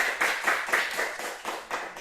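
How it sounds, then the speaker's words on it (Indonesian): A classroom group claps for the first group after its presentation, with several bursts of hand claps swelling and fading in a loose rhythm at moderate volume, fairly close. "sekarang tepuk tangan untuk kelompok pertama"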